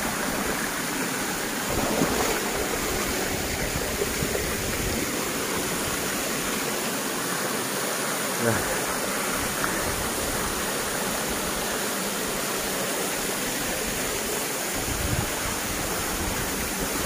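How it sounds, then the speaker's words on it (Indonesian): A waterfall on the Pangin River deep in the Kalimantan forest pours with a steady, dense roar of rushing water, loud and unbroken throughout, with no voices. "air terjun Sungai Pangin."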